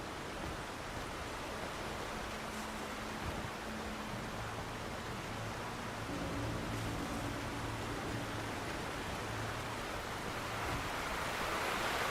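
River water rushing below in Alan Wake Remastered, a steady broad roar of flowing water with a faint low hum underneath, constant and fairly quiet throughout.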